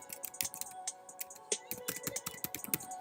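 Keywords are typed on a computer keyboard in quick, uneven bursts of light clicking keystrokes, close and quiet, with no voices.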